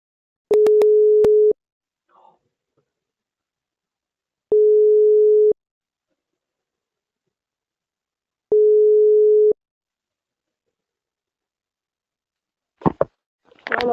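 A telephone busy tone after a call cuts off: three long, evenly spaced steady beeps, each about a second, separated by silence, with brief handling noise at the end.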